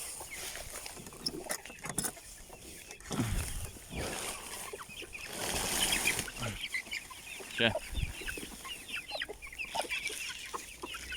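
Chicks and hens in a backyard coop clucking and cheeping, a busy, overlapping chorus of fairly close calls with rustling and scuffling as the chicks are brought out.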